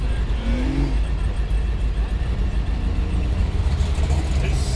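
A drag racing car's engine at Red CentreNATS 2022 drones in a steady, deep, loud rumble that holds without pause, with faint voices in the background.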